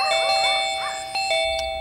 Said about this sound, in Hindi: आधी रात को कौन घंटी बजा रहा है?